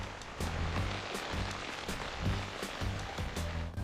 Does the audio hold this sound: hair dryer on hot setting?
no